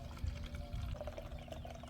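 Water pours steadily into a foam cannon, a soft continuous splashing and trickling, close by and fairly quiet, during a car wash.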